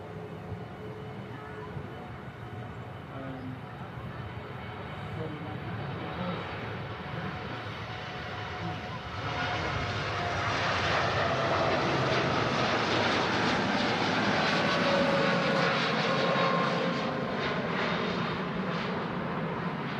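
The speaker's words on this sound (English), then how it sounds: "Here's our next heavy departure, TUI Dreamliner. It's heading out to Melbourne." A TUI Dreamliner departing Manchester Airport for Melbourne, a broad, distant jet roar that swells gradually and grows louder and fuller over the last half, with a faint voice underneath.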